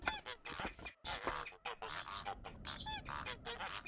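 A goose in the video game Baby Steps honks in a rapid, rhythmic series of nasal calls, loud and close as if right beside the listener, continuing without pause.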